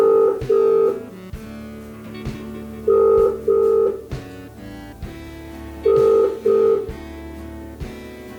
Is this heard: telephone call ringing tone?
yes